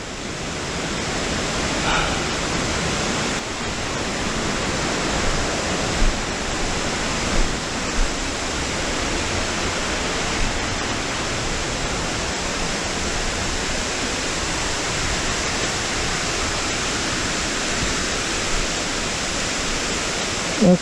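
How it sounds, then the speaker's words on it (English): Badalgiri waterfall rushing with a steady, loud, dense roar of falling water that fills the whole stretch without pause, heard up close and alone. "this is the beautiful waterfall"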